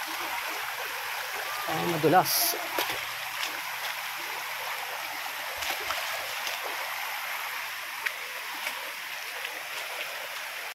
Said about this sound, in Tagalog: Another river crossing na naman.